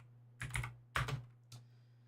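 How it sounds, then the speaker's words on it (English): Three short bursts of computer keyboard typing as a command is entered into a MySQL terminal during an ethical hacking session, close and clear over a low steady hum, with a pause between each burst. "So I'm going to type it in."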